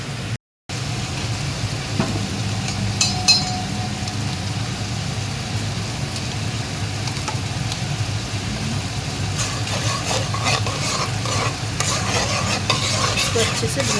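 Onion paste fries in a pot for butter chicken, a steady close sizzle under repeated stirring and scraping, with a low constant hum underneath and no voices.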